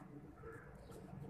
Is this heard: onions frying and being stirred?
no